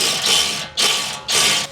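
A ratchet tightening a bolt while mounting a dash basket on a Mahindra Roxor, three quick bursts of sharp clicking close by in a regular rhythm, with no talking.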